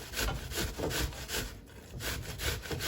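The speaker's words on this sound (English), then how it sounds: "I start to make a long strokes on my grater" Rough rasping strokes as an apple is shredded on a grater, several long even passes in a steady rhythm, close and fairly quiet.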